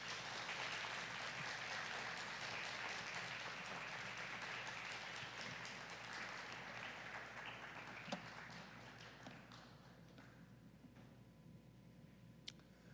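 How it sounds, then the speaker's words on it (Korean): A church congregation gives welcoming applause for a visiting pastor, a sustained wash of many hands clapping that gradually thins and tapers off into a few scattered claps and quiet room tone. "저희가 환영의 박수로 우리 맞이하도록 하겠습니다"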